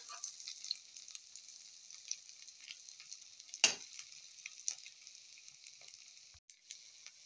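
Okra (ladyfinger) fritters, a Filipino egg torta, frying in a pan with a steady soft sizzle throughout, fairly quiet, with one sharp clink of a utensil midway and no talking.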